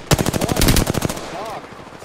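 Automatic gunfire from the video game Apex Legends on the Kings Canyon map: a rapid, loud burst of about a dozen shots lasting a little over a second, then quieter game sounds.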